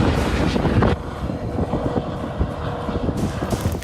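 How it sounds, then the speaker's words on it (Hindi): Steady, loud rotor and engine roar of a helicopter working a forest fire near Panilla in Argentina, continuous throughout with a brief shift in tone after the first second, no talk. "एक हेलीकॉप्टर को इस काम में लगाया गया है"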